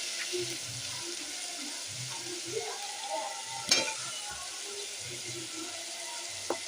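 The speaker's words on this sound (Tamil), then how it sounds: "பாருங்க வெங்காயம் தக்காளி வதங்குது அதில் கொஞ்சம் கருவேப்பிலை சேர்த்து நல்லா வதக்கிக்கலாம்" Onions, tomatoes, curry leaves and potato sizzle steadily in a hot pan, with a spoon stirring and scraping at intervals and an occasional sharp clink against the metal.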